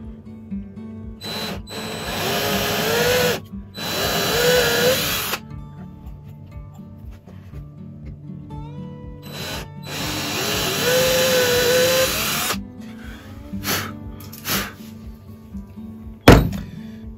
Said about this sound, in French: maintenant, il faut que je perce ici